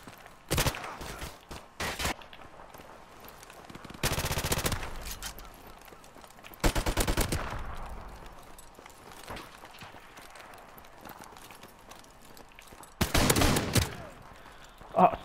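Several loud shotgun blasts in a video game, fired singly and spaced several seconds apart with quieter stretches of game noise in between.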